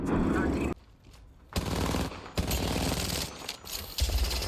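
Automatic weapon fire in the video game Apex Legends, loud bursts of rapid shots broken by brief pauses, with a voice speaking over parts of it.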